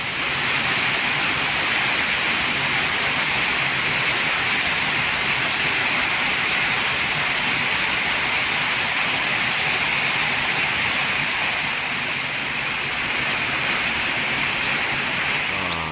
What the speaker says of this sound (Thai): น้ำห้วยกำลังมาพี่น้อง